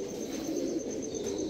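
Pigeons coo in a low, continuous murmur, a brief soft burble of several birds close together with no other sounds.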